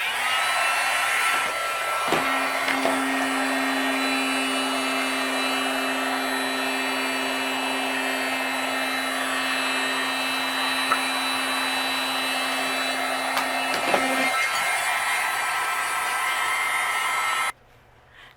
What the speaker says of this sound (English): I'm going to use my heat gun, and we're going to melt all this embossing powder